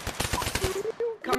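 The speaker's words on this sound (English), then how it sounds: "He started shooting at bro" Gunfire in the Pavlov VR shooting game comes as a quick burst of rapid, close shots over about a second, with someone's voice partly under and after the shots.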